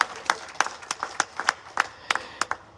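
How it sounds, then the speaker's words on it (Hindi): Audience clapping in short bursts at a Hindi poetry recital, several separate rounds of applause spread across a few seconds, moderately loud with a roomy crowd feel. "ताली आप लोग फिर बजा दो"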